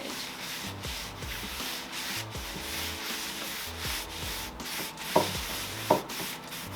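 A shop towel dipped in paint rubs and smudges across wood in steady back-and-forth swipes, close and soft, with two sharper taps near the end.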